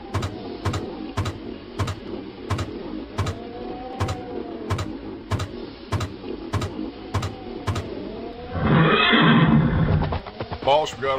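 Horses neigh and whinny in a Western-themed scene of the ESP pinball classic video game, over sharp regular mechanical clicks, followed by a louder burst of noise near the end.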